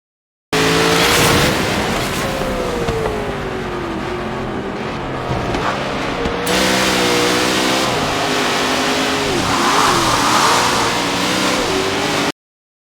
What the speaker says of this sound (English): the mildest of the group, that Mustang Mach 1 with the little air cleaner popping out the top.